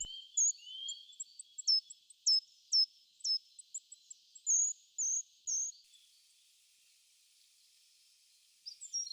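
Forest birds singing in the dense woods of Alvão and Marão: a quick series of bright, high chirping notes repeats for several seconds, falls quiet, then a brief call returns at the end, clear and fairly close with no talk.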